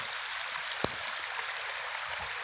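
Rainwater runs across a road in a steady broadband rush, continuous and fairly loud, with one brief sharp tap partway through; no voices.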